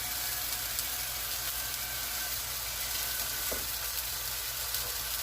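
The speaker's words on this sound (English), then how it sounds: "you want to let it sear for, I would say about, let's try for 5 minutes" Chuck pot roast searing in a hot pan on the stove, a steady broadband sizzle and crackle running evenly throughout at moderate volume, with a faint low hum beneath and no talking.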